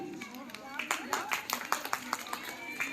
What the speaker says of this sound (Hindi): ठीक है, ताली।